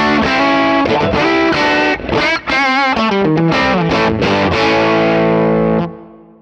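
Electric guitar played through an Axe-FX III modelling a Deluxe Tweed amp, a loud, gritty, overdriven run of chords and bent notes with a brief pause, then a final chord ringing out and fading.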